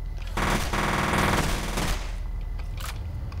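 Rapid automatic gunfire from a weapon in the video game F.E.A.R. rattles loud and close for about a second and a half, then tails off into a few scattered shots over a steady game background.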